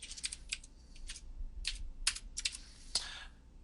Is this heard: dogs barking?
no